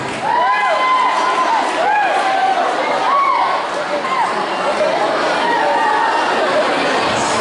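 Students at a pesantren class-ranking prize announcement shouting and cheering loudly, with excited whoops and chatter from a close crowd throughout.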